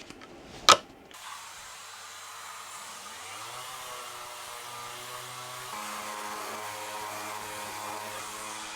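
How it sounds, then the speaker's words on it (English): Sanding solid ash table legs: a sharp knock opens, then a power sander spins up and runs as a steady, moderately loud whir that rises slightly in pitch and holds. "so I'm going to sand them down"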